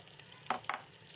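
Spice-coated meat stirred in a pan for aloo gosht, two quick scraping strokes over a soft background sizzle.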